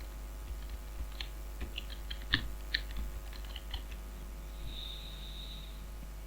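Light typing on a computer keyboard, a scattered run of quiet key clicks over a low electrical hum in a quiet room, close and faint.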